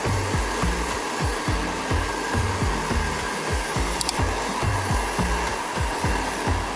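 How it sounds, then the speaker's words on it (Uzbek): A hair dryer blows hot air while hair is wound and styled with a brush, a loud steady whir interrupted by rhythmic brushing strokes, close to the microphone and without talk. "Endi fen bilan ishlatib ko'ramiz."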